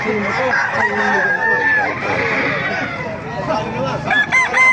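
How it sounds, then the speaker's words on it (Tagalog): Fighting roosters crow repeatedly at a busy Baliuag market, loud drawn-out calls overlapping with clucks, with people talking around them. "Ito mga manok oh."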